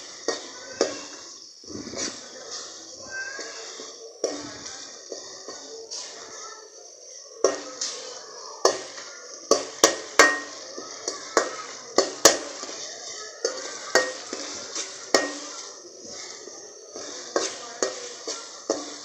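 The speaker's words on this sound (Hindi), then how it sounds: "ताकि इसके पूरे मसाले टमाटर में जज़्ब हो जाएं और पूरी तरह से मैश हो जाए" Tomato masala being mashed and stirred in a pan for a spiced potato and cauliflower dish, with a steady run of scraping, clinking utensil strikes against the metal pan, growing busier and more rhythmic midway, close and fairly loud with no talking.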